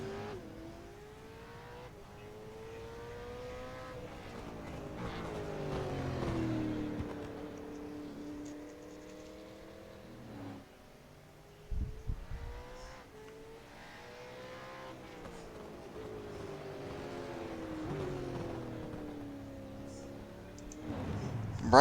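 Outlaw Enduro Supercars racing on the go-kart track at Tsubuka. Several engines whine and rev as cars pass, pitch rising and falling, with a brief sharp burst midway. The sound is moderately distant and continuous, and faint commentary runs underneath.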